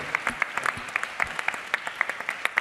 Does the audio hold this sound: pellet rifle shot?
no